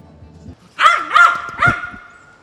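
A dog barks three times in quick succession, loud and close, after a brief stretch of low background noise.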